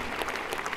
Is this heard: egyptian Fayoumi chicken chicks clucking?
no